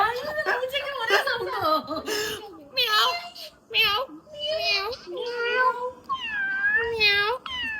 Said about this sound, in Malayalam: കണ്ടവന്റെ പൂച്ചയാ.